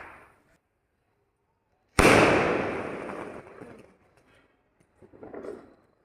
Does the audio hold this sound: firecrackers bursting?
yes